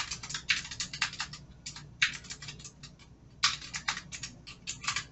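Quick bursts of clicky typing on a computer keyboard, uneven runs of keystrokes separated by short pauses, close and fairly quiet with no talk.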